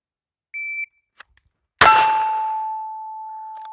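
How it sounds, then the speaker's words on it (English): A shot timer gives a single short, clear beep. About a second later a sharp gunshot cracks, followed by a long ringing metallic clang that fades slowly in a quiet setting. "So I've got a timer here. It's got a 2-second delay on it."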